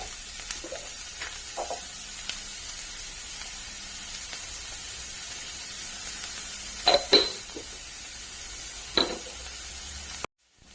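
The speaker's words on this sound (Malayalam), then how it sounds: "ഇത് നല്ലോണം ഫ്രൈ ആവട്ടെ" Squid fries in a pan with a faint, even sizzle running underneath, broken by a few sharp metallic clinks and scrapes from stirring.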